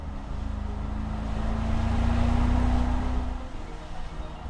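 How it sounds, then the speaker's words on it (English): A deep V8 engine of a 2018 Mercedes-AMG G 63 rumbles and swells as it revs up, holds a throaty drone, then eases off. "if you put your foot down, you get those beautiful V8 engine sounds."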